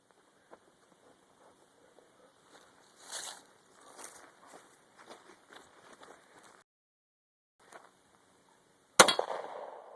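A single sharp, loud pistol shot from a .40 caliber Glock 27 at an outdoor range, ringing briefly after faint rustling and movement noises leading up to it.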